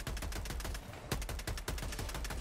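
Gunfire in Helldivers 2, a dense, loud, rapid stream of shots aimed at the player, continuous throughout with no talk.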